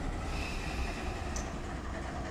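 A freight train hauling autoracks at West Colton in the Run 8 train simulator game, a steady quiet rolling rumble of rail cars with a brief high hiss partway through.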